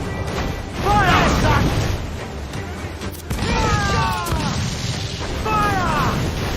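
Ship cannons fire in a naval battle in Assassin's Creed IV: Black Flag, with heavy booms rolling in two loud surges while crew voices shout over the barrage.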